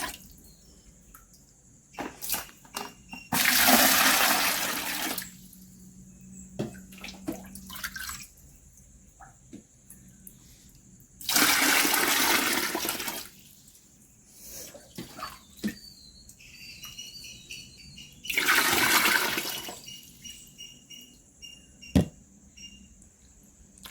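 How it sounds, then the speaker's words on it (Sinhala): Water is poured into a basket for a piranha tank in three separate bursts of splashing, each a few seconds long, with quiet stretches and small drips and clicks between them, fairly close. "අපි ඉස්සෙල්ලා මේ බාස්කට් එකට වතුර ටික මේකෙන් දාගමු."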